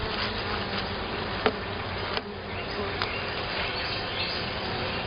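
Honeybees buzz around a hive during an inspection, a dense continuous hum of many insects close by with a few brief clicks and knocks from handling the hive parts.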